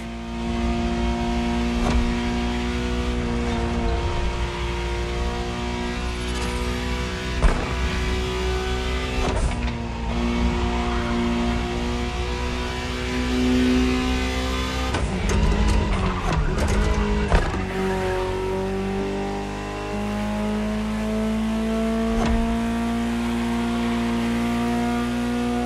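A Ferrari supercar in The Crew Motorfest racing game revs hard and shifts through gears, a loud, steady engine drone whose pitch climbs and drops repeatedly, with a brief burst of gear changes around the middle and no talk.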